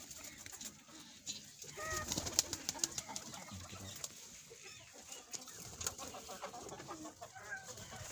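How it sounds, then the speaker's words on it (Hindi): Teddy pigeons from Kohat in a loft, about fourteen birds feeding and moving about, giving soft intermittent cooing and fluttering among faint scuffling noises, fairly quiet and close. "तो ये कबूतर लाए हैं, मुझे बड़े पसंद आए हैं, कोहाट से आए हैं ये कबूतर।"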